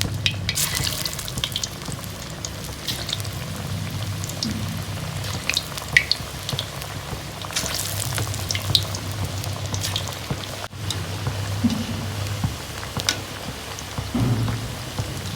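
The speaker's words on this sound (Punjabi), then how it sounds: "ਹੁਣ ਆਪਾਂ ਇਹਨਾਂ ਨੂੰ ਤਲ ਲਾਂਗੇ ਜੀ ਇਸ ਤਰ੍ਹਾਂ ਇੱਕ ਇੱਕ ਪਾਈ ਜਾਵਾਂਗੇ" Lauki (bottle gourd) kofta frying in hot oil, a steady crackling sizzle with scattered sharp pops and occasional clinks of a utensil, close and continuous throughout.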